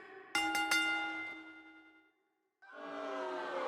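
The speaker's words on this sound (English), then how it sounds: "Ring the bell." The ring bell in a WWE 2K25 wrestling match clangs in several sharp, ringing strikes that decay slowly, followed by a brief pause and a loud swelling crowd or arena noise.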